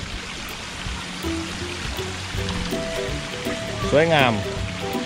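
Waterfall and flowing water in a temple garden with a small bridge, a steady broadband rush running throughout while someone speaks over it.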